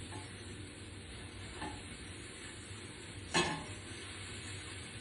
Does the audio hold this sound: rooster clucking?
no